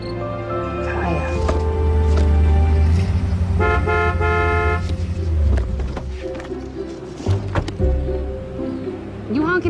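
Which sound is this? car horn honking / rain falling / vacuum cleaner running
car horn honking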